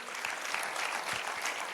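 A church congregation applauds at an Easter Sunday service, a steady dense patter of many hands, moderately distant, with no talk over it.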